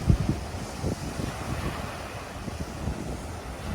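Wind buffeting the microphone beside waves washing on the Lake Erie shore, a low continuous rush with soft surges.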